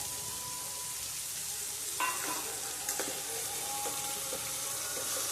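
Okra curry frying steadily in a pan as garlic chutney goes in, a continuous close sizzle broken by a few scraping stirs and clatters partway through, with no talk.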